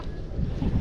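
Wind gusts across an open farm field planted with string beans, a low rumbling buffet against the microphone lasting under a second.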